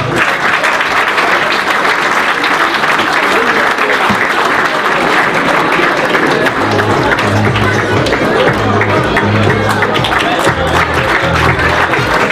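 A crowd at a Union Rennes Basket post-match gathering applauds loudly to welcome the basketball player Samba Dia. Dense, continuous clapping and crowd noise fill the whole stretch at a constant level, with some low tonal sound joining in later.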